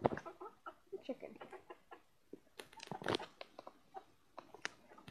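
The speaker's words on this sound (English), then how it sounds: "I'm gonna show you another chicken." A pet chicken clucks close by in short, irregular bursts, with sharper squawk-like calls around the middle, fairly quiet overall with gaps of near silence between the clucks.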